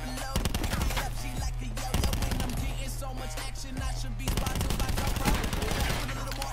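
Rapid automatic gunfire in Call of Duty Black Ops 4 Blackout, long bursts of fast repeated shots punctuated by brief pauses, loud and continuous against the game's background.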